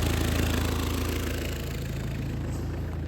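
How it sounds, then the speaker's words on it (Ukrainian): A 2003 Fiat Doblo 1.9 diesel engine idles nearby with a steady low throb and an even mechanical chug that stays constant throughout, check engine light on. "Мотор доволі непогано робить."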